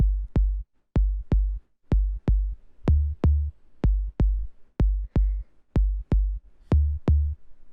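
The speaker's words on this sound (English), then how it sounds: "The next thing that we have here is this little bass tom thing" A short, punchy bass tom in a minimal techno track plays a simple repeating bass pattern on G, with steady rhythmic hits in pairs, loud, close and alone with no talk.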